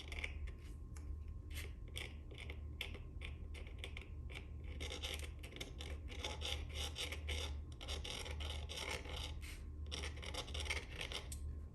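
A brush dry-brushing paint onto HO scale model building walls makes close, quiet scratchy strokes in quick irregular bursts, repeated steadily over a faint low hum.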